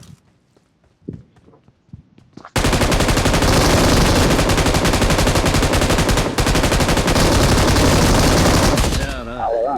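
Sustained automatic machine gun fire in BGMI on the Erangel map, loud and nearly continuous for about seven seconds after a few quiet thuds and footsteps, with a brief pause midway.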